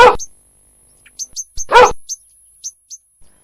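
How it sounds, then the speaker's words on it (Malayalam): A dog barks twice, loud and close, with silence between, while small birds chirp in short repeated bursts in the background. "നായക്ക് ടിപ്പുന്ന് പേരിട്ടത് നന്നായി."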